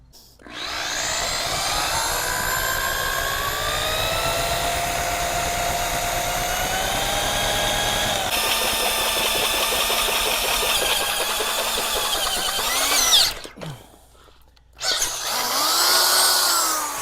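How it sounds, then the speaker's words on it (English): A power drill boring holes for bars on car trailer ramps: a loud, steady high-pitched motor whine running alone for about thirteen seconds, cutting out briefly, then starting up again. "that drill will break your wrist if you don't watch."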